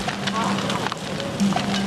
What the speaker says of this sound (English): We just got hit with a fire retardant drop from an air tanker on the flank of the fire.